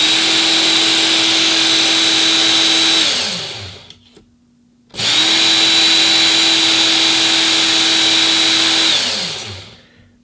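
A WorkSharp powered sharpener works the edge of a hand-made knife in two close, loud passes. Each is a steady motor whine lasting a few seconds that then spins down, with a brief quiet gap between them.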